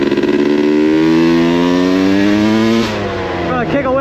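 A 2021 Yamaha YZ250X dirt bike engine revs hard and close, its buzzing pitch climbing steadily, then dropping and rising again near the end, loud with no pauses.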